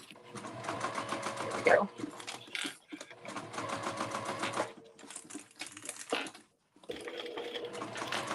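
A sewing machine stitches an emoji circle bag in several short runs of rapid mechanical whirring and clatter, stopping and starting at different speeds, while someone talks briefly between bursts.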